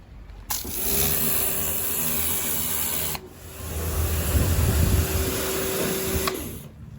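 A Karcher K4 Universal pressure washer, rated to 130 bar, runs loud and close with a steady motor whine, cuts out briefly, then starts again with a rougher spraying hiss before stopping.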